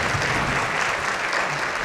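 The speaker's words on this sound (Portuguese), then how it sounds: "Uma salva de palmas, palmas pra eles." Steady applause from an audience at a comic hypnosis stage show, continuous clapping at an even level throughout with no talk over it.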